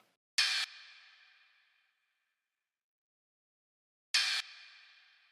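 A trap-beat hi-hat run through a high-pass filter and light reverb gives two crisp hits about four seconds apart, each followed by a long, fading reverb tail.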